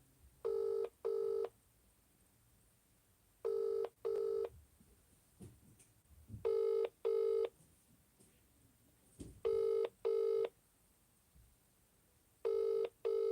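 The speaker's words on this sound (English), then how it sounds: "Ringing, that's a good start." A phone's ringing tone repeats in steady double bursts, five pairs about three seconds apart, heard clearly through the line with faint background noise between.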